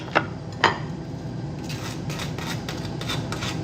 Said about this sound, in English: On the toast, I like to put a little bit of butter